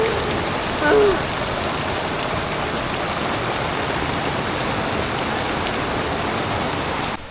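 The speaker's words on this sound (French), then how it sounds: "Regardez la pluie" Steady rain falls and patters on surfaces, a dense, loud, even hiss that fills the whole stretch without a break.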